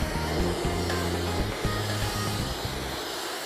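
Abrasive blasting nozzle sweeping quickly over steel for a brush-off of loose mill scale, a loud continuous hissing rush with a pulsing low drone that dips and shifts as the nozzle moves.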